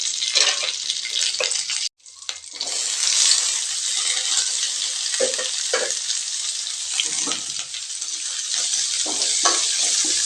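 Chopped large onions sauté in a pan with a bright, continuous sizzle, close and loud. It drops out briefly once, then returns with occasional stirring scrapes.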